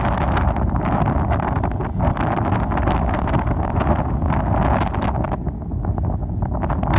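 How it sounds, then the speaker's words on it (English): Strong, fast wind blows outdoors beside a 400W vertical lantern-style wind turbine, buffeting the microphone with a continuous loud rush and gusty roar throughout. "This wind is just so fast that the wind is just so fast I'm afraid everything's gonna fly off."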